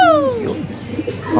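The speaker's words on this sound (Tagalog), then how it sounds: "Diyan na yung ibon natin. Dito galing mga kalapatids. Andiyan na, nasa bubong na." Pigeons on a rooftop give a short, close, fairly loud coo with a falling tone, followed by softer murmuring calls and a slight stir of wings.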